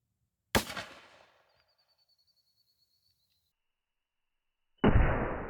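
A Mossberg 12 gauge shotgun fires a 2-3/4 inch buck and ball load into ballistic gel, one sharp loud blast with a decaying tail, a thin tone in the quiet gap, then another loud burst starting at the end.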